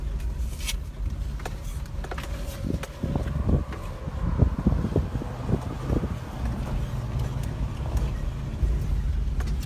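A farm wagon rolls out through a corn field with a steady low rumble and wind buffeting the microphone, while a rustle and a few rattles swell in the middle. No one talks.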